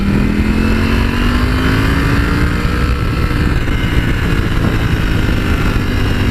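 A Ducati Panigale V4S motorcycle engine roars steadily and loudly as it accelerates, its pitch gradually climbing, heard close up with wind noise and no talking.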